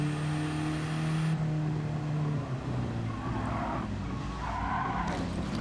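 A car in Gran Turismo 7 skids under hard braking, its tires squealing loudly over a droning engine that pitches down as the slide goes on, with the squeal fading out near the end.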